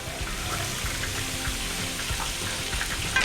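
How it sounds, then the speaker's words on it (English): Foraged wild mushrooms cooking down in butter and olive oil in a pan, giving a steady, even sizzling hiss with faint bubbling throughout and no talking. "I'm going to cook this down, and then I'm going to add a little more butter, a little more olive oil"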